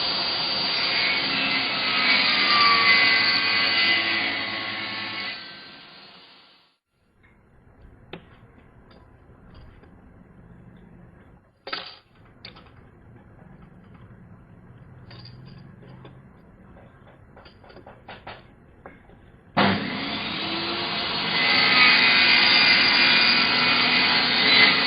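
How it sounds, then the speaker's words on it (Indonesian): A machine saw cuts natural stone pieces for a flower pot, a loud, harsh grinding that runs steadily, drops to quiet handling noises and small knocks, then roars back up. "kita potong ke mesin."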